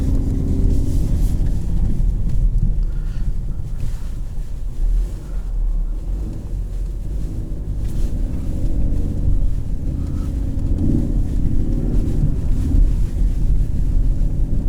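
Inside a 2020 Ford Mustang EcoBoost convertible with automatic transmission in track mode, a steady low engine drone with artificially enhanced sound is heard over road and wind roar, loud and continuous with a slight pitch change near the end.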